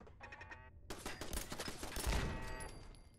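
Rapid gunfire in the Fallout 4 video game, a dense loud burst of overlapping shots following a few quieter metallic tones, close and continuous for about two seconds.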